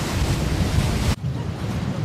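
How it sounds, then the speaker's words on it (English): Wind and waves on the Sea of Galilee make a loud, rushing roar of surf buffeted by heavy wind gusts against the microphone, with a sudden brief drop before the blustery wash resumes. "Hey, you stupid wind and waves!"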